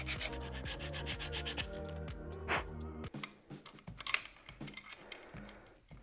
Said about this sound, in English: it's 40 grit emery, so it's pretty coarse, because that's what the glue really wants to grab onto.